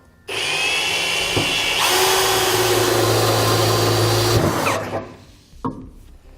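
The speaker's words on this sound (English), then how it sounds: "we're going to drill that out, coming from the bottom, going up towards the top of the bed." A power drill whirs loudly and continuously for several seconds as it bores pilot holes up through the metal bed of a 2018 Chevrolet Silverado, then winds down, followed by a couple of knocks.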